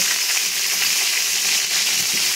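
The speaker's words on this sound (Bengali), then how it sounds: "তো এবার কড়াইতে আমি ভেজে নেব ফুলকপি" Cauliflower florets frying in a wok for a mutton curry, a steady, close, loud hiss and crackle of hot oil running unbroken with no voices.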